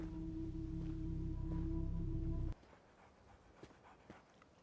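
Dogs pant and whimper loudly in a tense scene from the Chernobyl series, a steady, close sound with a low drone under it that cuts off abruptly halfway through, leaving faint background noise and scattered soft knocks.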